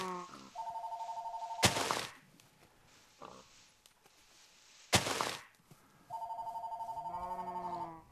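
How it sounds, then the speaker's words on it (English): A telephone rings in two long trilling bursts, loud and close, separated by quieter background sounds and a sharp crack. "Sorry about the interruption, that phone call."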